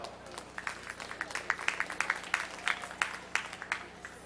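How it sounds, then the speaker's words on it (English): A crowd at a county junior fair sheep show claps steadily, a burst of applause with distinct individual claps, fairly close and lively throughout. "Let's give them a big round of applause."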